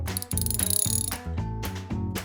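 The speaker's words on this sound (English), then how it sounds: "Finish off the tightening with a torque wrench." A torque wrench finishes tightening screws on the engine mount of a Citroën C3 mk1 1.4 HDI: several quick, close metallic ratcheting clicks in short bursts, then a pause and a few more clicks.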